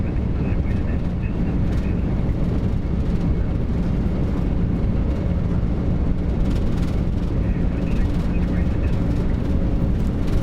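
The MD-11F freighter's jet engines roar at takeoff thrust on departure from Frankfurt, a loud, dense, continuous rumble heard from inside the cockpit, with faint voices under the noise.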